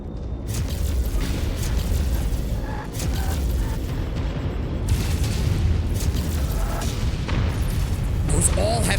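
Artillery explosions in the mech combat game MechWarrior 5, a continuous heavy rumble of booms and blasts that overlap without pause, with occasional sharper bursts on top.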